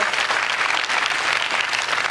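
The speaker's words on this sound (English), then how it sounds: "Can I get a round of applause?" An audience at an awards ceremony for women of color honorees claps in a dense, steady roar of applause that holds at an even level throughout, with no voices standing out.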